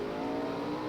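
Drag racing cars, including a blue car from Oklahoma City, roar off the start line at the 1972 NHRA Winternationals, a brief loud sustained engine blare heard alone.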